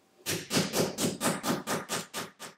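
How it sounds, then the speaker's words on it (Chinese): A kitchen hammer pounds pork chops sealed in a bag to break the sinews, giving about ten loud, close, evenly spaced thuds in quick succession. "锤子把它筋路拍断，吃起来就不会硬邦邦的"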